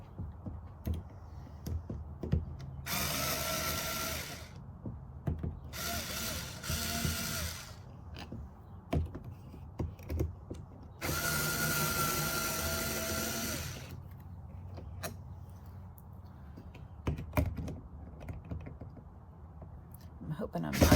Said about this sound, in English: the first step of this process is to take out these 4 screws